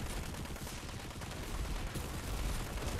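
Dense, continuous automatic gunfire from the Planetside 2 video game, close and loud, with rapid overlapping shots running without pause for the full few seconds.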